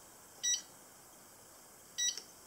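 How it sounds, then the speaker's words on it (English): Two short electronic beeps from the keypad of an Amazon Basics slim desk drawer security safe, about a second and a half apart, clear against a quiet hiss. "The safe will beep twice."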